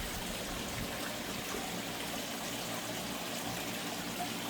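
About four gallons of water being added to a pond, a faint, steady trickle and flow running continuously with no voices.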